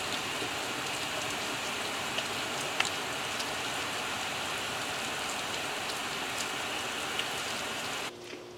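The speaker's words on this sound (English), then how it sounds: "It's just been a steady rain all afternoon." Steady afternoon rain pours outside a window onto a pool and standing water, a dense continuous hiss with occasional nearer drips, unbroken throughout.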